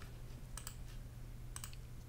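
Typing on a computer keyboard gives two short bursts of key clicks, over a steady low hum.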